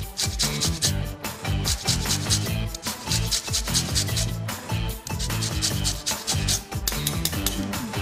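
Fresh limes are rubbed against a zester for a cake, making close, rhythmic rasping strokes that repeat one after another throughout.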